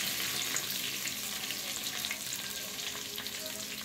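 Garlic sizzles steadily in hot oil in a pan while making a home-style prawn and drumstick gravy, a continuous close crackling hiss with no talk.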